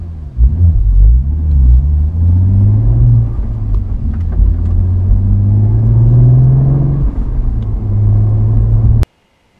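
A 2016 Cadillac ATS-V manual sedan on the move, its engine giving a loud, close rumble that rises and falls in pitch through gear changes, then cuts off abruptly near the end.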